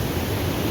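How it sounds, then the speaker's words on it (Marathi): Panthar river water near Nepanagar rushing forcefully under a bridge, a steady, loud, broadband roar of churning water with no gaps, close and continuous throughout. "बघा पाण्याचा झोप किती फोर्सफुली पाणी येते"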